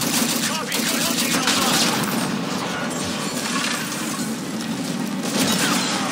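Automatic weapon fire in the game Call of Duty: Infinite Warfare, dense sustained bursts with crashes and impacts layered together, loud and continuous.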